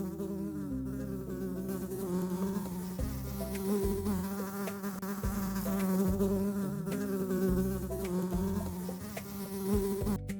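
Dense, continuous buzzing of many honeybees close by around a hive, a steady droning hum with shifting pitches and no voices.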